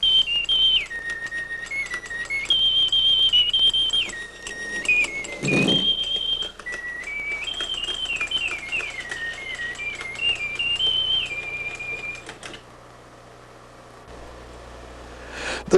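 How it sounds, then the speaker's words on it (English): A paper roll mechanical organ's whistle plays a stepping, tune-like melody over a soft whirring mechanism, with a brief clunk partway through before it stops. "That same machinery can be used to do a whistling figure."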